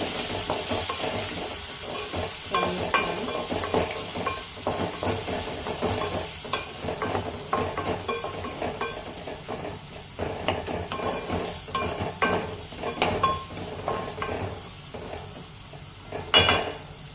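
Chopped onions being stirred as they fry in a pan: constant sizzling under repeated scrapes and knocks of a spoon against the pan, a busy uneven rhythm with a sharper clatter near the end and no voices.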